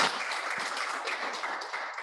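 An audience at a hybrid regional dialogue event claps for a panel of three speakers, a steady patter of many hands continuing at moderate loudness throughout.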